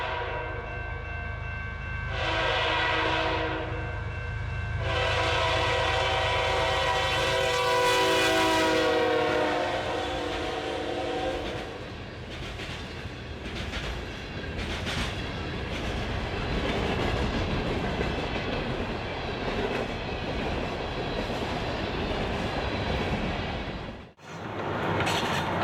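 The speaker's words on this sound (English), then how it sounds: "allowing for some great pacing action as the trains storm through" A CN all-rail iron ore train storms past in northern woodland, its horn sounding loudly for several seconds before giving way to a long, steady roar and clatter of ore cars rolling by close at hand.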